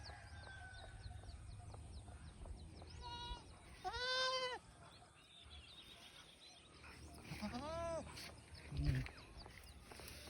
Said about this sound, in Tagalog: Ito yung mga kambing.